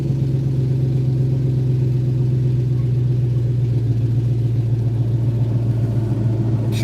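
Car engine with a faulty exhaust, a steady low droning rumble that runs evenly the whole time with no other sounds.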